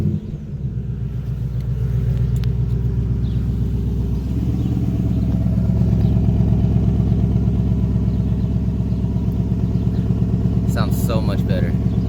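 A 2020 Ford Mustang GT Performance Pack with manual clutch cranks and fires up, then settles into a steady, deep rumbling idle that carries on without pause, close and moderately loud.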